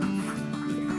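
Laying ducks on a duck farm quack in a dense, continuous chorus, a steady layered clamour filling the short moment without pause.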